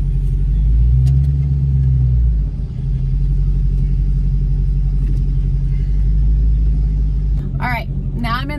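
A Dodge Challenger Hellcat races at a Dodge event, with a Charger Hellcat following behind. Its engine gives a loud, steady rumble from inside the car. A brief squealing sound joins near the end.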